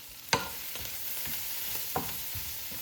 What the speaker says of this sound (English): And then we're gonna stir this around a little bit